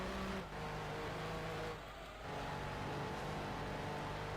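In Gran Turismo 2, a fast tuned race car's engine drones at a faint, steady level with a brief dip in pitch partway through, like a gear change.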